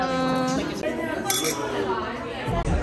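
Glasses clink together in a toast amid a busy restaurant with cutlery sounds and people chatting, the light chime brief and partly under voices.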